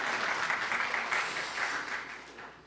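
Congregation applauding during a Sunday service at a Korean Presbyterian church in Niagara, a steady wash of clapping from many hands that fades slightly toward the end.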